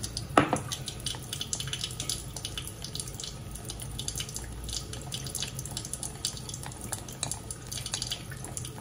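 Cold tap water poured while mixing pancake batter, a faint continuous running stream with small clinks of dishes and utensils throughout, one sharper knock near the start, no speech.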